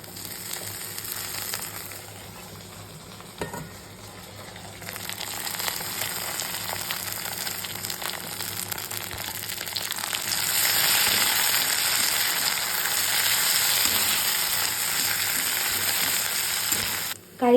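Washed curry leaves dropped into hot oil with onions for a chicken curry, a steady close sizzle that grows louder and hissier partway through and then holds, with no talk.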